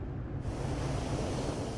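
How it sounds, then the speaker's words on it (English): A calm sea at night rushes past the ferry Scandinavian Star cruising at 21 knots, a steady broad wash of water and wind noise with no voices. "The sea is calm, the night clear."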